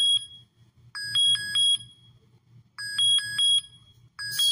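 An electronic alert chime from a PPE detection system plays in two bursts of rapid repeated bell-like dings, loud and clear over a low, steady pulsing hum.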